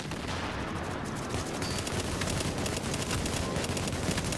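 Dense, continuous gunfire in a first-person shooter game, with rapid automatic bursts and explosive rounds merging into a loud, unbroken crackle of shots throughout.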